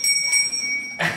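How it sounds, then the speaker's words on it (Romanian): Two bells ringing together, mounted fixed on a leather strap and not swinging freely, giving a brief bright metallic chime with sustained ringing tones, then a louder clang at the end. "Auzi, Cristinel, cum trebuie să cânte două clopoți, auzi."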